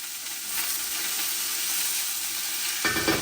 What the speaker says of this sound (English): you want to hear that sizzle when you first get your veggies going